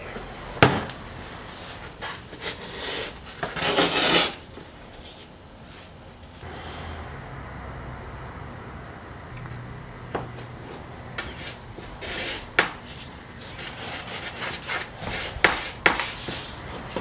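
Intermittent scraping rubs of sanding on fiberglass filler along the skirt of an RV-7A aircraft canopy, coming in short bursts with quiet pauses between strokes, fairly close and moderately loud.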